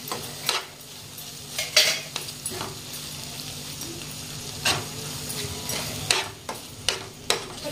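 Chopped boiled eggs being stirred in a pan for street-style egg tawa pulao, with repeated scraping and clinking strokes of a metal spatula against the pan over a soft sizzle, close and irregular.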